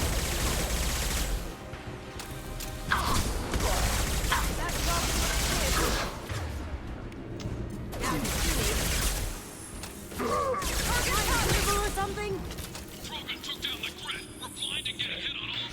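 Dense, continuous gunfire and explosions in the video game Mass Effect 2, loud rapid bursts and crashes layered together, with a voice talking over the chaotic combat throughout.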